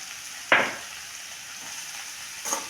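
Tempered aval (flattened rice) stir-fried in a pan: two brief scraping sizzles as the rice is tossed, over a soft steady frying hiss, no talking.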